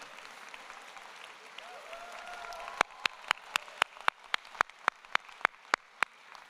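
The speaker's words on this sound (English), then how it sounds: "give her a huge round of applause" At a medical school convocation ceremony, soft crowd murmur and faint speech give way to a run of sharp, evenly spaced claps close by, about a dozen in a steady rhythm.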